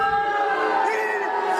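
Wrestling crowd roaring and cheering at a live promotion event, a dense, sustained wall of voices with whoops rising over steady cheering throughout.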